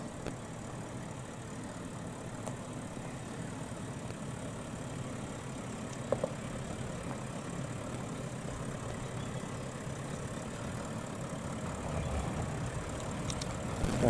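A heavy Toyota LandCruiser 79/76 off-road truck engine idles in a steady low drone that runs unbroken throughout, with a slight rise in intensity near the end and a few faint clicks.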